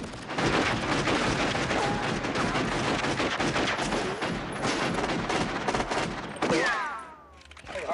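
Shotgun and other gunfire during a shootout scene in the action film Harley Davidson and the Marlboro Man, a loud, dense burst of overlapping shots lasting several seconds before cutting off, followed by a short ringing tail.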